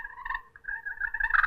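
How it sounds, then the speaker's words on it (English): Slate friction turkey call worked by hand, giving a string of close, raspy yelps that run into sharp clucks, loud and alone with no talking. "It's a friction call. All you do is make a little circle, get your yelp into cluck."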